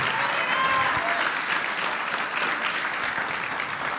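A church congregation applauds loudly and steadily, a dense continuous clapping filling the whole stretch with no voice over it.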